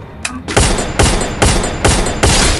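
Gunfire in a video game, five loud sharp shots at a steady rhythm of about one every half second, close and punchy.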